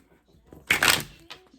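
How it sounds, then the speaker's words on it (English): A quick riffle of tarot cards being shuffled close by, one brief dense burst of papery flutter followed by a small tap. "So I'm gonna do some shuffling."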